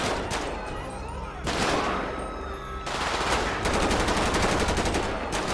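Rapid automatic gunfire from a GTA 5 police SWAT and military patrol shootout, with dense bursts of shots filling the clip and a loud sustained barrage in the final seconds.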